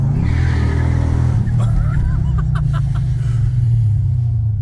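A 5,000-pound car's engine roars at a steady, heavy rumble, loud and close, with a brief rise in pitch partway through and no talking.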